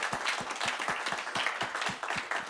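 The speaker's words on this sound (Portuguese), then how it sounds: "queria uma salva de palmas" Audience applause at a panel session, a dense wash of clapping with many hands striking in irregular rhythm, sustained and fairly steady throughout without speech over it.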